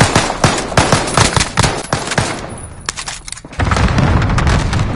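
Warzone firefight: loud bursts of rapid automatic gunfire give way to heavy booming cluster-strike explosions, the blasts merging into a dense roar toward the end.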